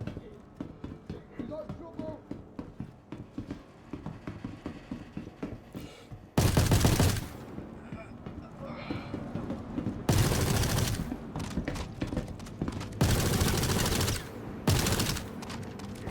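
Bursts of automatic gunfire in the space game Star Citizen come in loud, dense volleys of several seconds each, about four in all, separated by quieter stretches of ambient game sound.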